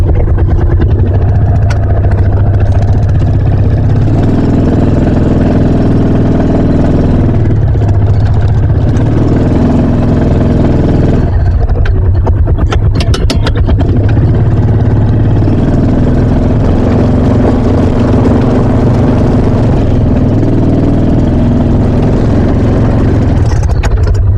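A vehicle engine in low gear revs hard and steadily while all four tires spin on a forest trail as it drags a blown-down tree, a loud, close, continuous roar that rises and dips slightly.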